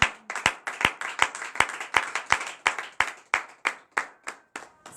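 A church congregation at morning prayer clapping in acclamation, sharp, close claps in a steady, brisk rhythm, roughly three per second, with no voices over them.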